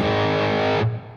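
A sustained, heavily distorted electric guitar chord through a Pro Co Rat Whiteface 85 Reissue distortion pedal rings out thick and buzzy, then is abruptly cut off, leaving a short fading tail.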